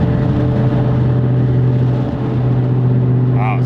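Inside a 2017 Shelby GT350R with a 1000R twin turbo setup, the exhaust holds a steady, loud, droning tone while cruising, with a short rising whistle at the very end.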